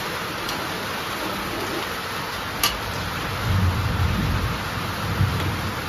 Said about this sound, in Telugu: ఫుల్లండి ఉరుములు మెరుపులు వర్షము